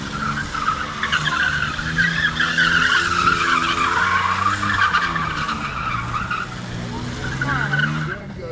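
Rear tire of an American car squeals continuously through a burnout at an American car festival in Komárom, loud and sustained with engine roar beneath and crowd noise around.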